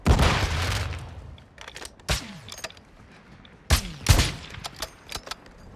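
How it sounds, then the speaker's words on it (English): Call of Duty DMZ gameplay with a thrown flash grenade and gunfire: sharp bursts of shots and booms in clusters, some ringing decay between them, loud against quieter game ambience. "Throwing flash grenade!"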